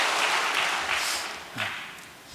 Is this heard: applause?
yes